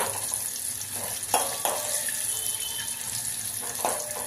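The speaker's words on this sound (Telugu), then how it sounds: "కరివేపాకు వేస్తున్నా" Curry leaves dropped into a hot pan of oil for tempering dal, with a steady close sizzle and crackle and a few brief spitting pops.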